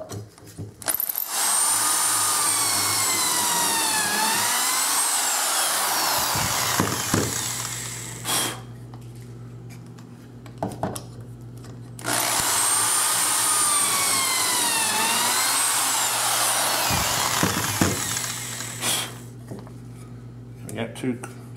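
A power drill bores holes for desk uprights, two long whining runs that rise and fall in pitch, each lasting several seconds and separated by a brief pause, with clicks and handling noise between them.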